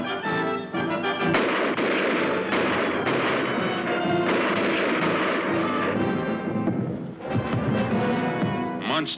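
Loud, continuous gunfire in a 1966 Lone Ranger cartoon, a dense barrage of sharp shots and blasts that carries on for several seconds over a noisy soundtrack.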